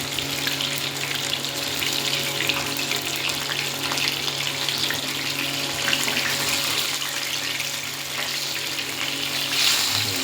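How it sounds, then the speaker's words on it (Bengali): Rui fish frying crisp in a covered pan, a steady, continuous sizzle with a dense hiss that holds evenly throughout, close by and fairly loud, with no voices. "একটু কড়া মাছটা ভাজা হলে এর টেস্ট বেড়ে যাবে"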